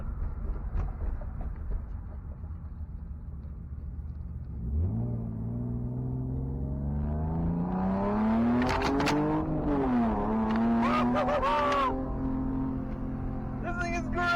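A BMW E36 325i sedan's engine rumbles steadily, then revs hard and climbs loudly in pitch during acceleration, rising and falling through gears with interior rattles and bursts of noise on top.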